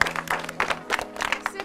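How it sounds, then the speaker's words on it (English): Scattered clapping at a family gathering, a handful of uneven hand claps in quick bursts, close by and moderately loud, mixed with background voices. "Can we give a round of applause?"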